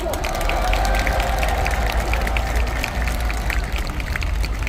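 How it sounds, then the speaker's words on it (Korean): A crowd at a political rally claps for lawmakers, a dense, sustained patter of many hands at fairly even loudness that carries on throughout. "네, 여러분 다시 우리의 국회의원들께 큰 박수 부탁드리겠습니다."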